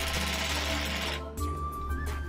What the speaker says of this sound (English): tighten the stud by turning the top nut in a clockwise direction using a 13mm socket on the impact driver